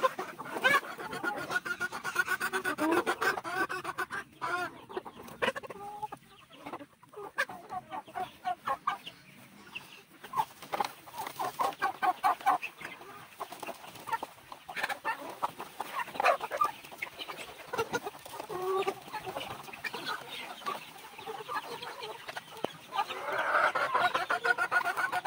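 Chickens and roosters at a breeder farm cluck and chatter continuously at moderate distance, a busy flock noise with scattered louder calls and no voices.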